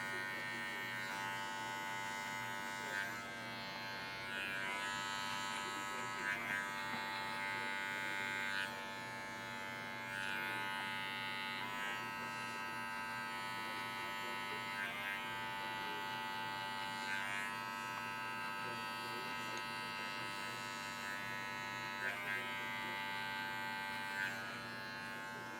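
Electric hair clippers buzz steadily while cutting a skin fade, a close continuous hum that rises and dips as the blade rides through hair, with no talking.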